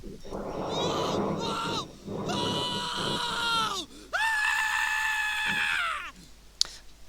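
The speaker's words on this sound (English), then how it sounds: "The sound of screaming comes closer from the corridor this time." Screaming sound effect in an escape-room fantasy game, a woman's loud drawn-out wails in repeated bursts of about two seconds, growing closer as if coming down a corridor, with a short sharp click near the end.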